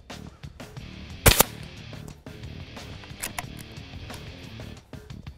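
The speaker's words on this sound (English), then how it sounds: "You'll notice 6 of the 7 shots went through less than a half inch hole." RAW HM 1000X .357 air rifle fires a single sharp, loud shot at a range accuracy test, with quieter clicks and handling noises before and after.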